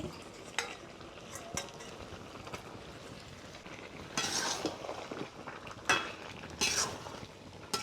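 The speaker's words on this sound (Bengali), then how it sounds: "আরও কিছুক্ষণ কষিয়ে নেব" Country chicken and potatoes are sautéed and stirred in a pan, with a soft sizzle underneath and occasional scraping clinks of a utensil against the pan, close by and in irregular bursts.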